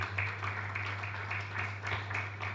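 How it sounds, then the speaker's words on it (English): An audience at a book presentation applauds a reader with steady, moderate clapping, alongside a constant low electrical hum. "Please, a round of applause for Nasamu Moses as well."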